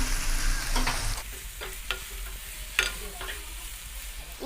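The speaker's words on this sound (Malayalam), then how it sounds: "നമുക്ക് ഉള്ളി ഒന്ന് വഴറ്റി കൊടുക്കാം." Onions sauté with salt in a pan, a soft continuous sizzle punctuated by a handful of distinct scraping stirs, close by and moderately quiet.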